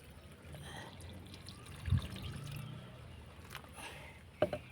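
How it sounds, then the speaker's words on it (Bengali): Water trickles and pours steadily from a can onto a potted summer vegetable plant, with a soft splash near the start and a couple of small knocks toward the end. "এইবার গাছটাতে জল দিয়ে দেবো"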